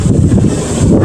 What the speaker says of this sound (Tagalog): at saka alakas ng hangin dito mga ka-idol sa amin dito sa Surigao del Norte